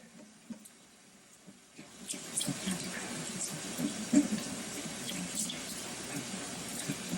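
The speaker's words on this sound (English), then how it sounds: "We're going to start slowly stirring in the beef broth." Beef broth from a sous vide roast stirred slowly into a thick gravy in a pan, a soft liquid swish and gentle clatter that rises after a quiet start and keeps going steadily at close range.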